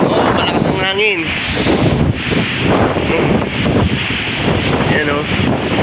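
Strong wind from Typhoon Kristine buffets the microphone in a continuous loud roar over a flooded farm field, with gusts rising and falling and a voice speaking briefly through it.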